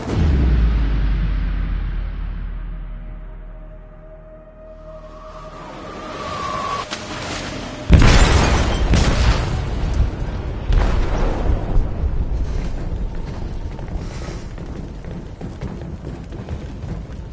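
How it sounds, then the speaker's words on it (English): An explosive goes off in a ship's hold in Detroit: Become Human, a sudden heavy boom after a low, fading rumble, followed by sustained roaring, crashing debris and turbulent noise. "They detonated an explosive in the hold. The ship is sinking, sir."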